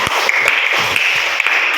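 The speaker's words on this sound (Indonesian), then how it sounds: "Tepuk tangan untuk teman-teman kita yang bisa menyimpulkan." Classroom applause from students, a dense, loud, continuous patter of many hands clapping with a few sharper individual claps standing out.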